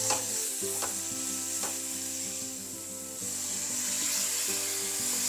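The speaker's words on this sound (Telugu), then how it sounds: "ఇది తాలింపులో మంచిగా వేగాలి, పచ్చివాసన అంతా పోయే వరకు వేగాలి." Ginger garlic paste fries in hot oil tempering with a splash of water added, giving a steady close sizzle broken by scraping stirs of a spoon against the pan.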